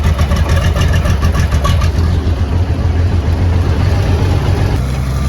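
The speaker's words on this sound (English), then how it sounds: "Gotta start this tractor quick so I can get hydraulics on." A tractor engine runs on a small dairy farm, a loud, steady low diesel throb and rattle continuing without a break, as if just started and settling into idle.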